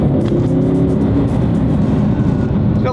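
Audi R8 engine droning steadily and loudly from inside the car while driving, a continuous low rumble with a smooth downshift blending into the engine note.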